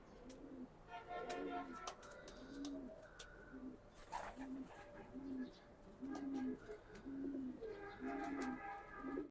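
Racing pigeons coo in a steady, rhythmic run of low, rolling calls, close and continuous, while people talk over them and a few sharp higher chirps cut in.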